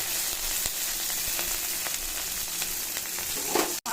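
Bay leaf, cumin and green chilli hit hot oil in a pan and sizzle loudly and steadily, with a few small crackles and pops, then a brief cutoff near the end.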